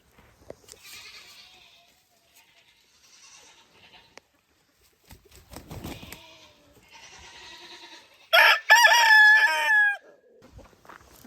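Chickens in a farm chicken run cluck softly at intervals, then a rooster crows loudly nearby, with quiet gaps and faint rustling in between.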